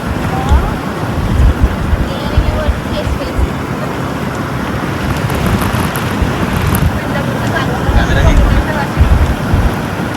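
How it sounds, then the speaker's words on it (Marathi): Wind and sea at Adgaon beach near Mumbai: a loud, continuous rush of wind buffeting the microphone over rolling surf, steady throughout with no clear pauses. "आदगाव बीच आहे मित्र"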